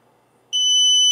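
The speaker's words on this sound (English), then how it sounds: "when I do start, this thing is going to start beeping" A Begode mTen4 electric unicycle with a 300Wh 40T pack starts beeping at power-up: after brief quiet, a loud, piercing, sustained high-pitched electronic tone sets in abruptly and holds steady.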